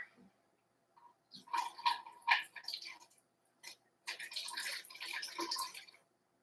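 Water being poured into a container on a scale in short splashing bursts, measuring 5.5 ounces for soap making, close by and fairly quiet, with brief pauses between pours.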